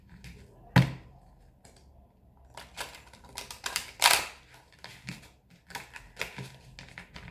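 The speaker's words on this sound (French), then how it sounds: "Je mélange les cartes de manière un petit peu différente pour pas trop les abîmer." Tarot cards are shuffled by hand, giving a series of sharp, close clicks, taps and card slaps spaced irregularly, with a few louder thumps among quieter riffling.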